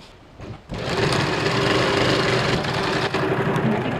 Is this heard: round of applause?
no